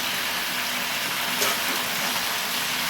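Bottle gourd and potato pieces sizzle in a hot frying pan while being stirred, a steady dense hiss with faint scraping, close and continuous for a few seconds.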